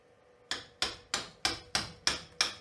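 Woodworking chisels are struck to knock old tiles off a surface, seven sharp, evenly spaced, close impacts, each with a brief ringing decay, against a quiet background.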